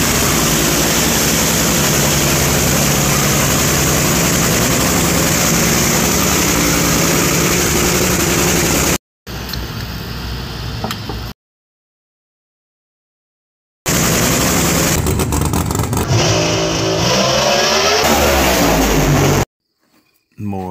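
A project car's engine drones loud and steady, idling and revving as the car is slid out of a garage, with abrupt cuts to silence and later bursts of rising revs.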